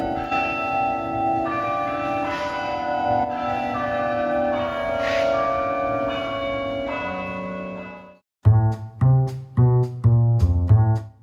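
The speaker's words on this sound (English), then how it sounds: "we were fortunate enough to witness the 49-bell carillon being played" A 49-bell carillon at St. Colman's Cathedral in Cobh rings out a sustained, layered peal of bell tones, then after a brief break strikes a run of separate, bright bell notes, loud and close, with no voices.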